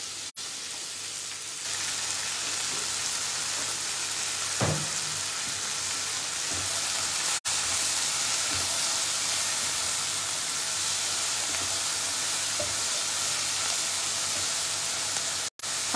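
Vegetables with green capsicum and boiled corn sauté in a pan over a high flame, giving a steady, close sizzling hiss that runs throughout with a few brief clinks of stirring.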